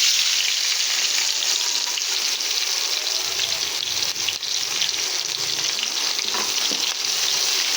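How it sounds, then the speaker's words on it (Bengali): Chopped onion drops into hot oil already seasoned with a bay leaf, two dried red chillies and five-spice seeds, giving a loud, continuous close-up sizzle throughout with no talking. "কেটে রাখা পেঁয়াজ দিয়ে দিচ্ছি।"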